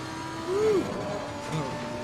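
An RWB race car's engine in a racing sim at the Silverstone six-hour race holds a steady, moderately loud drone with a brief rising whine as the throttle opens early.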